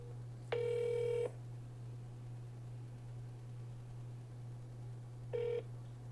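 Two telephone keypad DTMF tones sound on an automated phone line, a longer beep followed by a short one about five seconds later, over a steady low hum with no talking.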